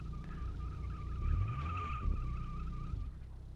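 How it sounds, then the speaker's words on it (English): Car tires squeal in a steady, drawn-out screech under braking in the Automation video game, the car's very low first gear and poor brakes spinning the wheels, with engine rumble beneath and no talking. "The first gear is so low and the brakes are so crap that it spins the tires"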